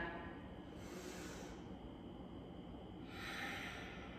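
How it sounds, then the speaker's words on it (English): During a sun salutation yoga class, a person draws in slow, deep breaths and lets them out, each one a steady close airy rush, with a longer inhale and exhale repeating over a few seconds and no talking. "let's take a couple deep breaths in and out"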